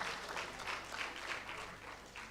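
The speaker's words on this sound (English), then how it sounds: "A round of applause for her once more." An audience at an engineering fellowship conferment ceremony gives a round of applause, a soft, even patter of clapping heard from a distance and sustained throughout.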